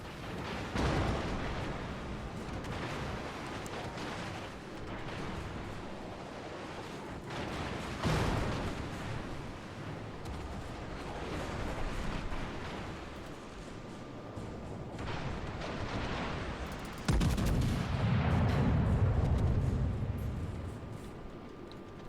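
Warship main guns fire in the World of Warships game, with heavy booming salvos and rumbling blasts near 1, 8 and 17 seconds over continuous engine and sea noise, and loud low rumble after the last volley.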